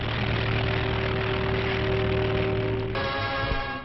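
A propeller airplane carrying pilgrims from Algiers to Jeddah drones steadily with a loud, constant engine roar and a continuous hum, shifting slightly in tone near the end.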